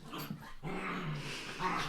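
Dogs growling and snarling at close range in a low, continuous rumble, with a sharp yip partway through.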